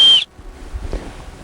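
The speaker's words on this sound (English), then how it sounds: "it's just your regular Fastex buckle, but with a whistle, and it's pretty loud" A loud, shrill emergency whistle built into a Fastex buckle gives one short blast, cut off abruptly, then only quiet background remains.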